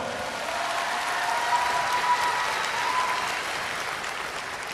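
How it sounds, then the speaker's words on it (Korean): Audience applause for contestants at a beauty pageant final, a broad, even sheet of clapping from a large hall crowd, sustained and fairly far off with little talk. "여러분, 뜨거운 박수로 격려해 주십시오."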